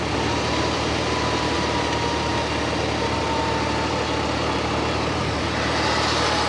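A winch runs steadily on its lower setting, pulling a vehicle. It makes a continuous, even, moderately loud mechanical drone with low engine rumble and no change in strain.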